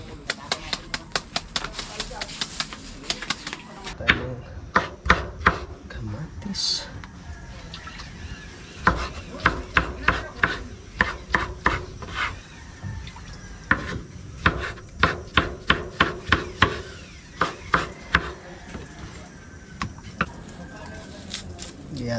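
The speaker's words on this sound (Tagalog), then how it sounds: "Gihatin na natin itong sibuyas." An onion is chopped with a knife on a wooden board while lunch is prepared, producing long runs of quick, close, rhythmic chops broken by pauses, with people talking in between.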